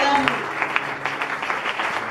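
A church congregation clapping and cheering in praise of the Lord, a loose run of sharp handclaps spread across a crowd, with voices calling out beneath.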